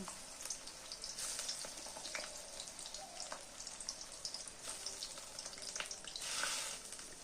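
Raw banana pakora frying in hot oil, pieces slipped in one at a time, giving a continuous crackling sizzle with bubbly pops, moderately close and with no talk.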